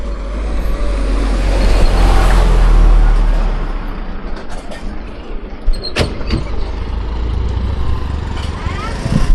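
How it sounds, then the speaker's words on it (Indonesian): A dump truck arrives at a dusty river-dredging site where thick mud is being cleared, its engine rumbling loud and steady under broadband noise, with a sharp clank partway through and people talking nearby. "Nah, ini datang lagi ya dump trucknya."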